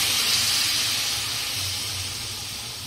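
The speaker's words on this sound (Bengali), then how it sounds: "এখানে গরম জল দেওয়া হবে" Hot water pours into a pot of Gobindobhog rice for chicken pulao, a steady close rushing hiss that tapers slightly toward the end, with no voices.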